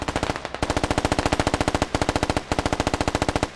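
Rapid automatic gunfire in the video game SquadOps, loud and close, comes as long rhythmic bursts of evenly spaced shots, broken by two brief pauses, with no talk.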